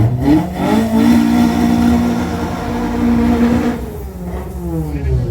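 330D 2-litre six-cylinder race car engine revving hard at Killarney race circuit, close and loud, pitch climbing and holding before easing off, with a rough harmonic growl throughout.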